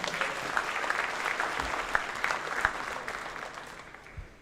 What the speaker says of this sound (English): Let's give our Booster Club a round of applause.